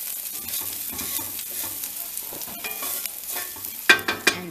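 Garlic sizzles in a hot pan while a utensil stirs it, a crackling hiss broken by scraping strokes, ending with a few louder clanks against the pan.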